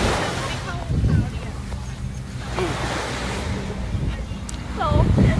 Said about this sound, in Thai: มีคลื่นน้ำ